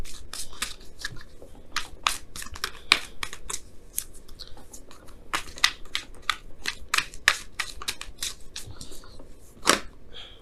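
A deck of tarot cards is shuffled roughly, giving a quick, uneven run of crisp riffling clicks and snaps, close and fairly loud, with no talking.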